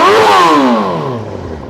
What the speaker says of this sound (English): I'll give her a quick rev just for you guys to have a hear. So this is a Yoshimura exhaust.